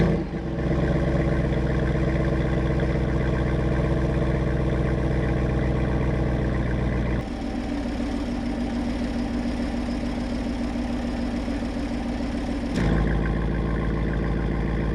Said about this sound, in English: This dual mode exhaust has the biggest difference from regular to like exhaust valves open of any car.